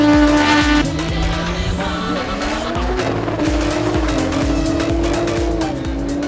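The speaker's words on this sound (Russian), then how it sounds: "Рев моторов давит на барабанные перепонки." Drag racing cars on an airfield roar loudly with rising engine revs and squealing tires, a dense, close wall of motor noise that stays intense throughout.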